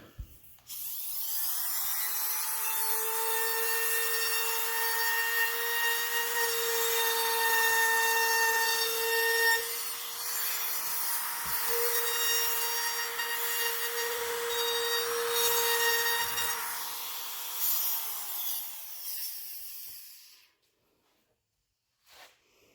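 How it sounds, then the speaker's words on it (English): A handheld router trims the edge of a wooden panel for a DIY TV console wall, giving a steady, loud, high-pitched whine that runs nearly twenty seconds and then spins down to silence. "All right, I'll clean that up with the router."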